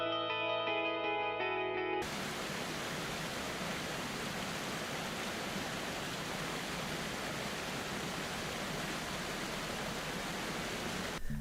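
A waterfall roars at the foot of the falls beneath a cliff-side staircase in Canada, a dense, steady rush of falling water that starts abruptly after a brief stretch of music and continues unbroken at high loudness.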